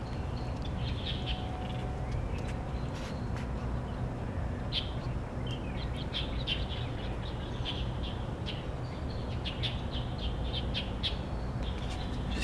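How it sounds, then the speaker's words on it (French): Birds chirping and calling in a city park in Shanghai, scattered tweets over a steady low urban hum, moderately near. "on entend les oiseaux, tout ça"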